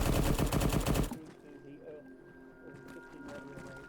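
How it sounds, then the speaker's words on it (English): A .50 caliber machine gun fires a rapid, loud burst in the video game Arma 3 for about a second, then cuts off, leaving a low ambient game hum with faint distant sounds. "that's a 50 cal firing through a little keyhole right there"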